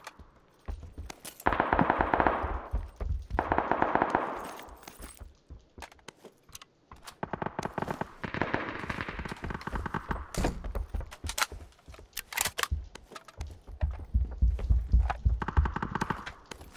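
Bursts of AK rifle fire in the shooter video game PUBG, several rapid automatic volleys with short pauses between, loud and close, with clattering game sounds and no talking.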